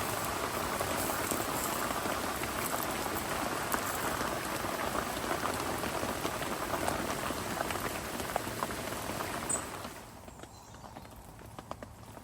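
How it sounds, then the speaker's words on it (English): Heavy torrential rain drumming steadily and loudly on a surface, a dense hiss that eases abruptly near the end. "the rain absolutely hammered down, looked torrential."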